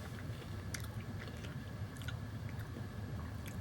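Someone chews Hershey's Sugar Cookie Kisses, white chocolate candy with cookie pieces, producing faint close mouth crunches and soft squishy chewing over a low steady background hum.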